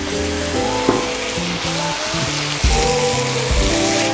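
Wine poured over toasted rice for butternut squash risotto hisses and sizzles loudly and steadily in a hot pan, with a sharper burst of spitting partway through.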